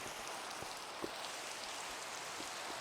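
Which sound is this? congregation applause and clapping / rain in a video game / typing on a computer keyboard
rain in a video game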